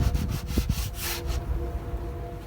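Boat hull being sanded during repairs with two-part marine epoxy, a close, rough rhythmic scraping in quick strokes that stops after a second or so, leaving quiet background.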